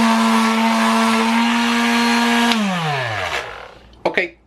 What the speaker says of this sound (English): I'm just going to sand it with some 60 grit sandpaper using the Black & Decker mouse that I have